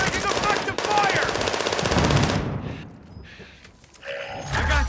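Rapid automatic gunfire in Call of Duty: Modern Warfare II Warzone, a loud, dense stream of shots for about two and a half seconds, then quieter battlefield noise with a brief voice.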